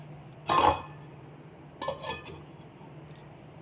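A lid clanks down onto a pot of simmering thin snakehead fish curry with cauliflower, a sharp metallic clatter followed by a second, softer rattle as it settles, over a quiet kitchen background.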